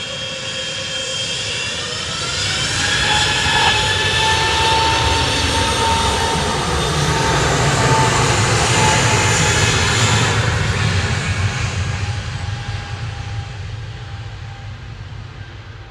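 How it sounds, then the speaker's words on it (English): An EasyJet Airbus A320neo's engines roar at Manchester Airport, a loud sustained jet rumble that swells toward the middle and slowly eases, with a steady whine layered over the low drone and no talk. "EasyJet 701 to Belfast now. A320neo GUZED."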